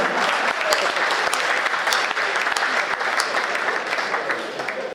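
Steady applause from an audience at a Hindi poetry recital, for the poet, dense, sustained clapping that holds level for several seconds and then cuts off.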